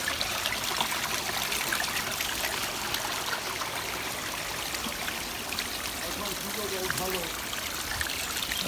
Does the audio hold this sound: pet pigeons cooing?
no